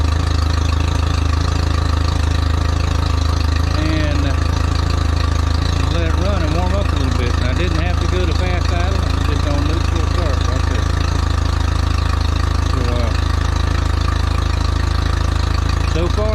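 A Mercury 60 hp four-stroke outboard with a newly repaired fuel pump and fuel lines idles close by, making a steady, loud, even drone with no change in pitch over the whole stretch.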